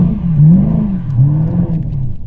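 A Chevrolet Camaro engine on a skid pad during drifting, a loud, close, low droning rev that rises and falls in pitch across the short stretch, with no talking.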